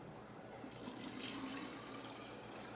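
Water pours steadily into a pressure cooker for spaghetti with spiral noodles, a soft, continuous splashing rush that lasts throughout without any talk.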